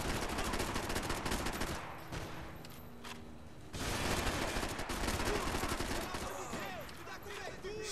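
Dense, rapid gunfire from the Max Payne 3 video game rattles almost continuously, with machine-gun bursts, a short lull and then heavier volleys, loud and busy throughout.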